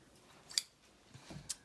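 Scissors trimming small paper scraps for ephemera, giving a couple of brief, crisp close snips separated by short pauses, fairly quiet and alone.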